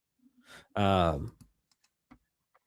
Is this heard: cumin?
no